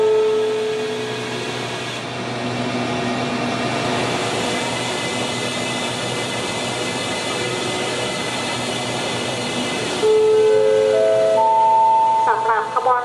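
The Thaksinarath special express train number 31 stands at Ratchaburi station in Thailand with a steady, loud engine drone, while a public-address voice speaks over it and a series of tones sounds near the end.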